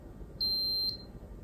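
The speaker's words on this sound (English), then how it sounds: "search around until SARCTRAC stops beeping" A SARCTRAC 3D sensor gives a single clear electronic beep, steady and high-pitched, lasting about half a second over quiet background noise during calibration.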